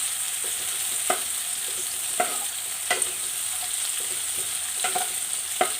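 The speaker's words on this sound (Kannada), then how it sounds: "ಇದು ನಾನು ರವಾ ಉಪ್ಪಿಟ್ಟು ಮಾಡ್ತಿದ್ದೇನೆ. ಇದು ಚೆನ್ನಾಗಿ ಬೇಯಲಿ." Rava upma cooks in a pan with a constant sizzling hiss, punctuated by several sharp scraping strokes of a spoon stirring at irregular intervals.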